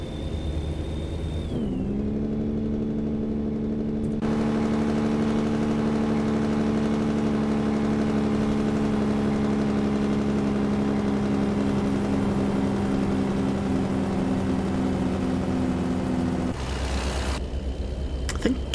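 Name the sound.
Caterpillar truck engine running in American Truck Simulator video game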